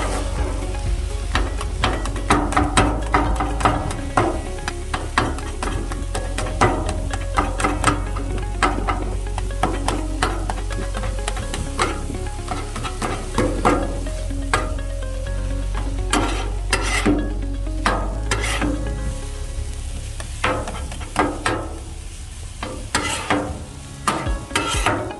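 Shaved cheesesteak meat sizzling and frying on a flat griddle for an Indy-style Philly cheesesteak, with a continuous loud sizzle punctuated by frequent scraping, chopping clicks of a spatula against the metal surface.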